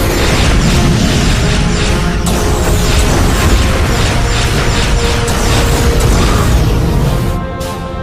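Loud, dense barrage of starship weapon fire and booming blasts in a sci-fi space battle, continuous with mechanical clatter, easing off near the end.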